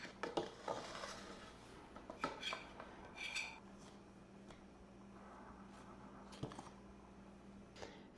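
Cold butter being cut into dry ingredients for biscuits, heard as faint scraping clinks of a utensil against a bowl in scattered, irregular taps over a quiet kitchen background.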